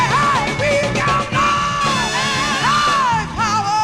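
A 1967 soul record plays loud and full, with a sung vocal line over the band and shouted backing voices.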